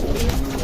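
Young pigeons kept at home cooing, a soft low burbling coo heard close and continuous for a brief moment.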